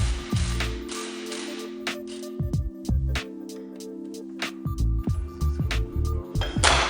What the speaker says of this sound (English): now we're disassembling the caliper to remove it completely